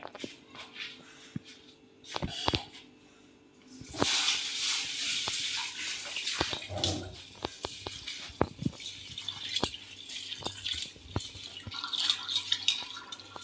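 Matar dal lentils being rinsed and rubbed clean in water, with splashing, dripping and running-tap sounds that start faint and swell into steady, close washing noise with scattered drips.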